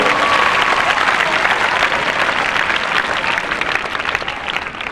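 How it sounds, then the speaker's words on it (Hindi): Loud, dense applause from an audience of children and adults at a school event, continuous vigorous clapping close by that tapers slightly toward the end. "जोरदार ताली से बजाइए"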